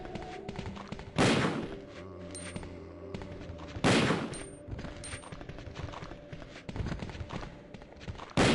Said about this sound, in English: he takes up a proper firing position while firing the .50 caliber Magnum